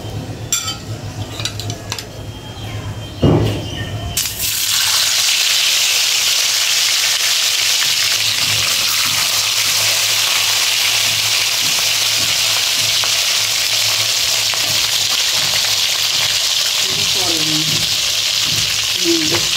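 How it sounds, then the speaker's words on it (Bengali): Oil heating in a cooking pot, then koi fish frying for a home recipe, a loud continuous sizzle that bursts in after a few quiet seconds of clinks and handling, with occasional utensil clinks against the pot. "আসুন আমি হাঁড়িতে তেল গরম দিয়ে দিই।"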